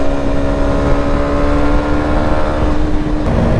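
A motorcycle accelerating with a loud, sustained engine roar held close, its pitch steady with a steady harmonic whine and a brief shift near the end.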